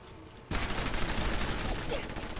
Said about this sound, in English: Let's use the submachine gun.